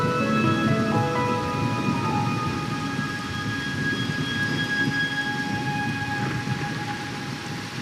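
Steady rain pours in a dense hiss through a rainy night scene in Wuthering Waves, with low rumbling thunder beneath and sustained musical tones layered over it.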